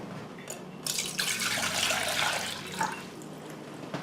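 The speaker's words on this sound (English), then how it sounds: "you take your pot and you're going to fill it with water" Water filling a cooking pot for miso soup, a steady broadband rush starting after a brief quiet moment and running continuously at moderate level with small splashy fluctuations.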